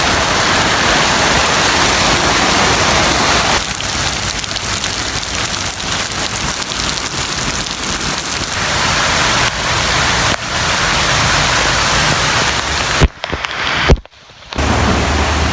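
Heavy rain pours down in the Philippines, the first rain after four months, a loud dense hiss of drops on surfaces that continues steadily, then briefly cuts out near the end.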